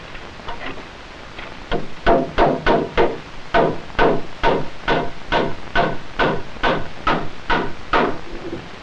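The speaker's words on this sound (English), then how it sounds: "One nail from that side and two from underneath." Hammer driving nails into a wooden joist atop support posts for a shelter, heard as a steady series of about eighteen sharp, evenly spaced blows, close and loud, with no talking.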